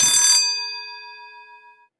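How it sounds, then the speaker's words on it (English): A single bright electronic doorbell chime rings out, its tone ringing on and slowly fading over about two seconds, with no voices. "suddenly the doorbell rang"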